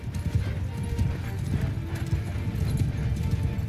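Horses gallop across a Mount & Blade 2 Bannerlord battlefield, a dense, loud, continuous drumming of many hooves with a faint whinny mixed in.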